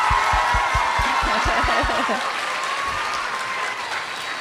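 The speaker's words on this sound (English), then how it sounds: "So I think a big round of applause again for Paula and Connor, who started the whole" An audience at a school event applauds, sustained clapping with a few chuckles while a voice speaks over it and low rhythmic thumps fade out partway through.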